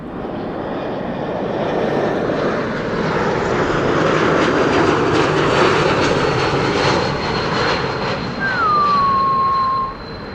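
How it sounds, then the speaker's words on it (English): An Embraer E2 jet's geared turbofan engine roars steadily nearby, with a high whistling whir gliding downward near the end. "listen to the whir that you will hear on E2 Embraers as well"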